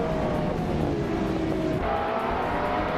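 Race cars on the Dijon-Prenois circuit in a racing video game, including a 2016 Ferrari 488 Challenge, a dense, continuous engine roar with droning tones at the start, loud and steady throughout, no talking.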